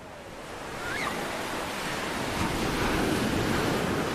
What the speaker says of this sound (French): les vagues sont hyper puissantes